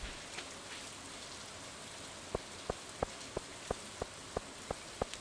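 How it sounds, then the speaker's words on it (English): Soft, steady rain falls in the video game Stardew Valley, a faint continuous hiss with a series of evenly spaced light ticks or taps near the end. "It is raining too."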